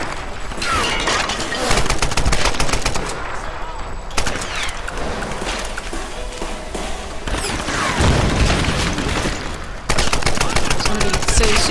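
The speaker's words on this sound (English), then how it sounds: "Maybe we should just use the gun in this." Rapid bursts of gunfire from a gun in Tomb Raider Definitive Edition, loud and close, repeating in dense volleys with brief gaps across the stretch.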